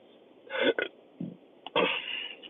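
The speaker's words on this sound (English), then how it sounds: "Burp." A loud, drawn-out burp from a man on a live stream, with a second belch following after a short pause, close to the mic and without talk over it.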